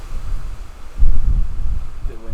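Wind buffets an outdoor microphone, a low, rumbling blustery noise that swells sharply midway and stays gusty to the end.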